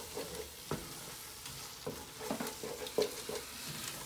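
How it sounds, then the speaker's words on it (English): Stirring in an enamel cast iron pot of Mardi Gras cooking, soft scraping strokes at an uneven rhythm over a quiet, continuous sizzle, close but faint. "it needs to be stirred for 3 minutes, which concentrates all those flavors"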